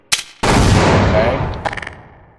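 Gunfire in the video game Half-Life: a brief sharp shot, then a loud sustained burst of rapid automatic fire that slowly fades, with a few lighter clattering hits at the tail.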